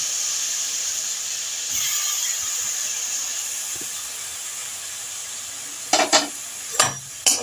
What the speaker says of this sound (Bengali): পুর তৈরি করার জন্য এইভাবে নারকেলটাকে নেড়ে যেতে হবে।